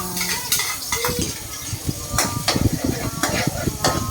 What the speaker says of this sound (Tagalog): Sutay lang natin yan hanggang sa mag-golden brown na